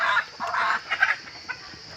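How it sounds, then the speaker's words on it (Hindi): A desi hen clucks loudly and close while laying an egg, giving a run of repeated, uneven clucks with no other sound. "मुर्गी को ये अंडा दे रही है।"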